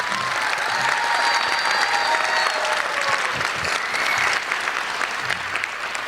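A hall audience at a Tamil comic debate show claps for a speaker's introduction with sustained, dense applause that stays loud throughout and eases slightly near the end.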